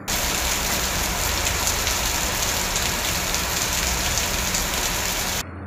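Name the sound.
moderate to heavy rain falling in Puducherry suburbs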